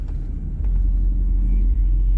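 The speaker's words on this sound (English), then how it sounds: "This big F-250 over here. Wow, that is loud." A loud Ford F-250 pickup rumbles past at close range on a Las Vegas street at night, a deep, steady low-pitched roar filling the short stretch without speech.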